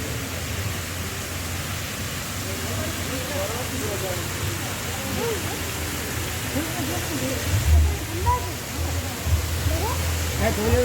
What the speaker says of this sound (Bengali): ঝর্ণার দৃশ্য।